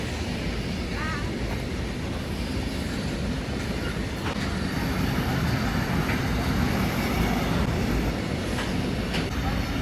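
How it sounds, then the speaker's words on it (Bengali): A train rolls past in an Italian town near a market, a steady loud rumble of wheels and carriages with a few faint clicks, continuing throughout at close range. "আবারও কিন্তু এই ট্রেন যাচ্ছে"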